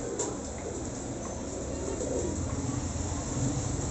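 Soft cooing from a breeder pigeon close by, low rolling calls repeating over a constant background hum.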